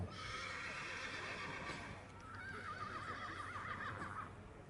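A horse whinnies loudly and close by at an outdoor equestrian event, the rising and falling neigh standing out over a steady murmur of crowd noise and background bustle.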